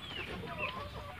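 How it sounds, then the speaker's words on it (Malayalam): Chickens in a backyard poultry coop give low, soft clucks, close and continuous, with nobody talking. "ഈ കോഴി ഈ അടുത്ത സമയത്ത് നമ്മുടെ കൂട്ടിലേക്ക് വന്ന കോഴിയാണ്."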